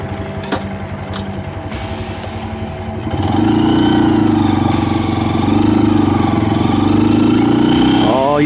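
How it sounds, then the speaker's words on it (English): A Honda Grom motorcycle fitted with a K&N filter in the airbox cover idles, then revs up into a louder, steady buzzing engine note with a brief rise at the end, while voices talk over it. "It's just an airbox cover with a K&N filter, and it sounds awesome."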